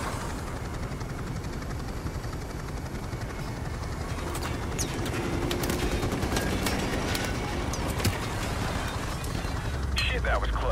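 Bursts of automatic gunfire crackle in Call of Duty: Modern Warfare Remastered beneath a droning helicopter, steady and fairly loud throughout, with radio chatter over it.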